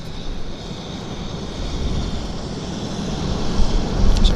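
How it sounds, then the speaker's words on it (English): Aircraft taxi at Vancouver airport, producing a steady low jet engine rumble and hum that grows slightly louder toward the end, heard from a moderate distance with no talking. "there's about another 3 aircraft taxiing out here"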